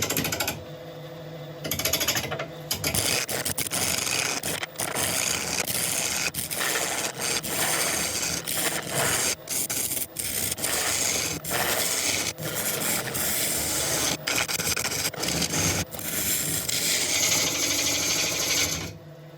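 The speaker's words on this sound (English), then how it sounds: "So I'm going to carry on with a ball gouge." A ball gouge cuts a wooden turning project spinning on a lathe, giving a steady, close, continuous rasping scrape broken by a few brief pauses as the tool lifts off the wood.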